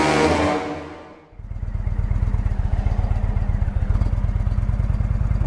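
A fading rush gives way to an Indian Roadmaster motorcycle engine catching and settling into a loud, steady, evenly pulsing idle close to the microphone.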